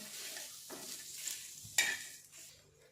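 Onion being dry-roasted and stirred in a pan for a spicy taro-leaf dish. A faint sizzle sits under soft scrapes and one sharper clink of a utensil against the pan, close and quiet, with no speech.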